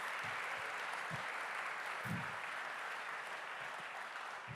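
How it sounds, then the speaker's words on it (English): An audience claps and applauds steadily throughout at an evening fundraising event with paddle donations, a dense, continuous wash of hands with a few nearby louder claps standing out. "round of applause for everybody for one kid"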